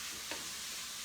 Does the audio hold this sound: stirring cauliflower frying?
yes